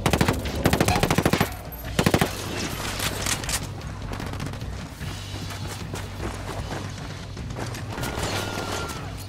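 Loud automatic gunfire from a military shooting video game, with two sharp rapid bursts early on followed by several seconds of denser, ongoing firing and battle noise, no voices over it.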